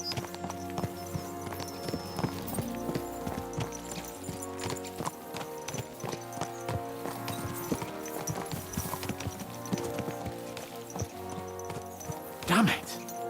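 Horses gallop at speed in the medieval role-playing game Kingdom Come: Deliverance, with a steady run of hoofbeats carried under ongoing game sound and other noise.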